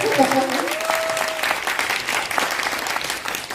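An audience at a political talk held at the Roh Moo-hyun Citizen Center in Korea claps vigorously, with sustained dense applause and a voice briefly heard at the start.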